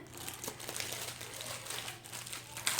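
Crinkly plastic sleeve is handled while a package of painting canvases is unboxed, producing close, continuous crackling and rustling with small bursts of louder crinkles and no talking.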